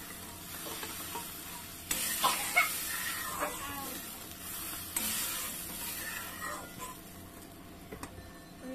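Mustard paste fries in a pan with a low, constant sizzle as it is stirred, with repeated scraping and clinking strokes that come and go over the bubbling.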